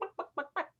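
A person imitates a chicken with their voice during a mime, giving four quick, close, loud clucks in an even rhythm with short gaps between them.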